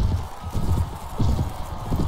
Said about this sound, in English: I'm on a horse, that's very, very important